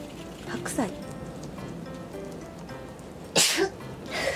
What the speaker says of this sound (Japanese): めっちゃくしゃみ出た。